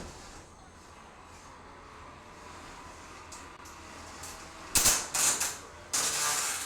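Combat robots grind against each other during a Hammer Head KB66 event, a low mechanical rumble with sharp bursts of scraping and clattering toward the end.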